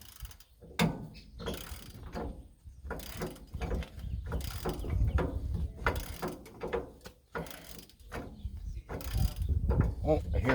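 Wrench working a stuck nut loose, with repeated ratcheting clicks and metallic clanks in uneven bursts, close and moderately loud with some low handling noise.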